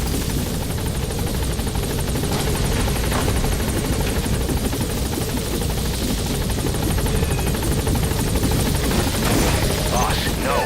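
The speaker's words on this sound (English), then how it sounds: "Support helicopter has arrived." A support helicopter arrives in a Metal Gear video game, its rotor chopping and engine buzzing loudly and steadily throughout, with a radio voice speaking over it.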